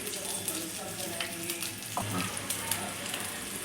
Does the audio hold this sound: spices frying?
yes